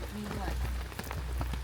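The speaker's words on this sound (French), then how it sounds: "Il pleut." Rain falls in Hakone, Japan, a close steady patter of drops on a surface with scattered louder taps, under a low continuous hum.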